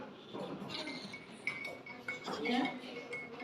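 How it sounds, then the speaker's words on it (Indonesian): A spoon clinks against a glass while stirring sugar and salt into water in an elementary school classroom demonstration, light scattered chinks under quiet voices. "Kita masukkan gula dan garam lalu aduk."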